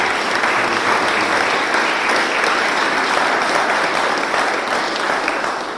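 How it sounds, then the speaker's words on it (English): Loud, continuous applause from a crowd at a Springfield community event announcing a new health center, a thick, even roar of clapping that holds steady for several seconds and tapers slightly at the end. "I just want a round of applause for their investment within the whole greater Springfield community."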